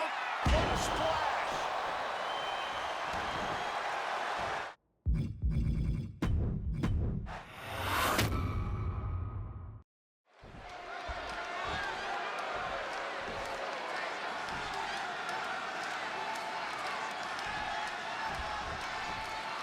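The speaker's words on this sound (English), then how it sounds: "just listen to this crowd here in Chicago" A roaring arena crowd in Chicago during a CM Punk versus Eddie Guerrero match in the WWE 2K26 game, loud constant cheering with a sharp impact and brief gaps in the middle, under commentary.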